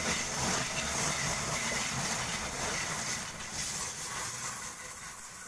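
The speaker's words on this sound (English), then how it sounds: "Car Tangara arriving into platform number one here at Otford." A Tangara electric train pulls into platform one at Otford station, heard as a moderately distant, steady rolling rumble with hissing brakes and wheel noise that gradually eases as it slows, with no voices.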